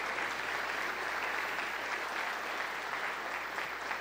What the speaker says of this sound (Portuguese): Você pode aplaudir ao Senhor Jesus.